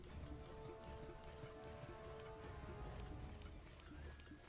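Rain in the video game Minecraft, a faint, steady patter of drops on surfaces that continues evenly throughout, with no voices.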